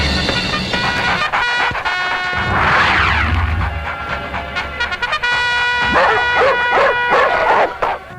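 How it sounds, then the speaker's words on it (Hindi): Several dogs bark and yip loudly and repeatedly, in overlapping bursts with some whimpering, close by at a roadside spot where a lorry is parked. "कुत्ते क्यों भौंक रहे हैं?"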